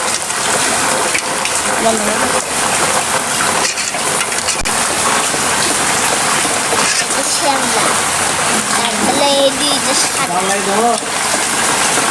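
Continuous rain patters and hisses on surfaces throughout, with a person talking over the steady downpour.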